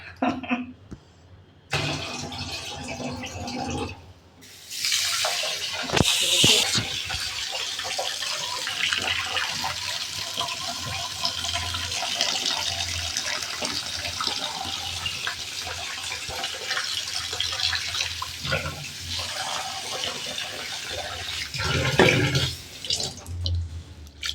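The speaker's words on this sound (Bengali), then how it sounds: "চাল যতই ধোয়া যায় ততই এইরকম বের হয়, ভালো লাগে।" Rice being washed by hand in water, with running water, splashing and sloshing that comes and goes in bursts over a long stretch, close by and with no clear speech.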